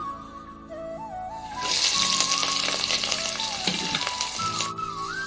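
Spices, ginger-garlic paste, onion and green chillies hit hot oil, the sizzle surging loudly after a quieter start and staying steady and close, with a faint tonal whine running underneath.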